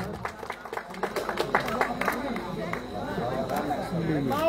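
Audience applause greeting a guest at a Maithili comedy stage event, a dense wash of clapping from a crowd with chatter and voices talking over it throughout.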